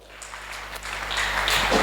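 A church congregation applauding, a loose patter of clapping that swells steadily louder toward the end.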